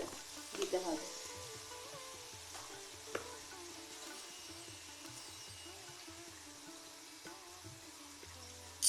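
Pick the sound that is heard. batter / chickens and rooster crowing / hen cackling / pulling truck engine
batter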